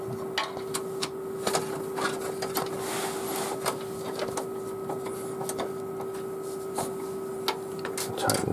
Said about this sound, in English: So I'm just putting all the screws back in here.